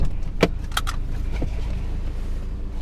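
A 2017 Ford Focus RS sits idling with a steady low engine rumble throughout, joined by a couple of clicks and a brief rattle nearby.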